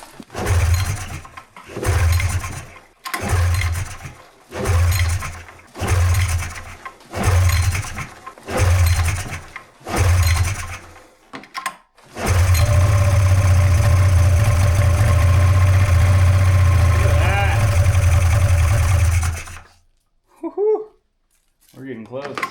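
An old carbureted snowmobile engine that sat broken for years being pull-started, with about eight rhythmic cranking pulls before it catches and runs in a loud steady idle for around seven seconds, then cuts out, followed by brief talk.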